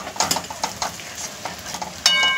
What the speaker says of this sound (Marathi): थोडीशी हलकी आपण ही परतून घेऊयात, हलवून घेऊयात, म्हणजे ती छान मिक्स होईल